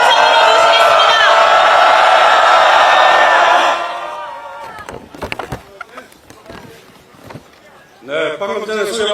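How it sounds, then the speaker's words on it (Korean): A large crowd at a candlelight rally outside the National Assembly claps and cheers loudly for about four seconds before the noise drops away, leaving scattered sounds and then a voice at the end. "여러분, 큰 박수와 함성으로 모시겠습니다"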